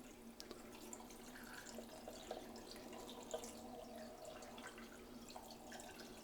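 Steady running water pours and splashes into a Ninja soup maker jar, a continuous close hiss with small drips and trickles throughout.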